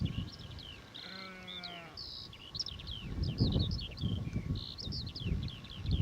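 A single bleat from a freshly shorn sheep in a field, heard briefly at moderate distance over continuous skylark song and light wind.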